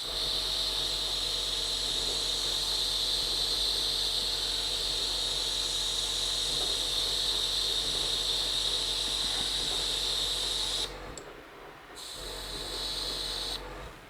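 A steady, loud hissing spray from an aerosol can of primer on a model SA-4 Ganef, running almost continuously, briefly cutting out and then resuming near the end.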